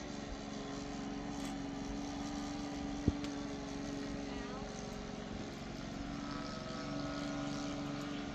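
A model airplane's propeller engine drones steadily and evenly throughout at a fun fly, a constant buzzing hum with a faint click partway through.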